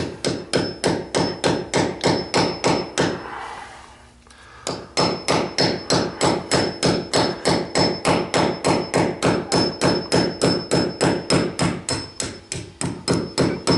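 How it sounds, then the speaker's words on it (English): Rapid, evenly spaced hammer blows ring out on a metal ground anchor being knocked into a hole, dozens in a row, pausing once for about a second before the steady pounding resumes. "then you get your trusty hammer and just gently knock it in"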